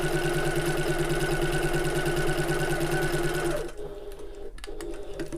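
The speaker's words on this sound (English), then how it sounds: "I'm going to top stitch along this top folded edge" A sewing machine runs at a steady fast pace while top stitching along the folded top edge of a small fabric bag, a close, even mechanical whir that stops abruptly, followed by brief handling of the fabric.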